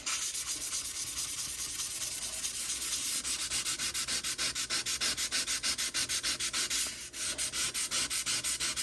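Sandpaper rubbed back and forth across a cooktop stove surface, a steady close scratchy sanding with fast rhythmic strokes that quicken after a few seconds, briefly pausing near the end.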